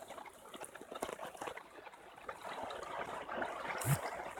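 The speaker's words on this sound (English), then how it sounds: "I hear this beautiful water" Stream water flowing outdoors in sunny natural surroundings, a soft steady trickle and babble at low level that swells slightly toward the end, with no talking.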